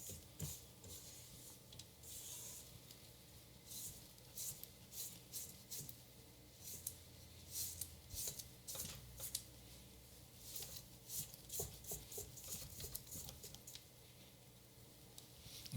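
A spatula scrapes down the walls of a bowl of gluten-free chocolate sugar cookie dough, giving soft, close, irregular rubbing and scraping strokes in repeated bursts with quiet gaps between.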